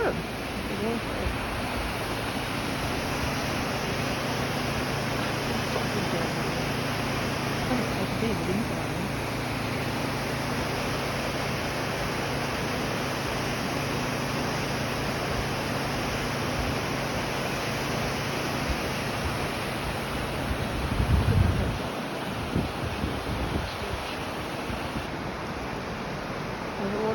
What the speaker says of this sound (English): The waterfall's still going down here.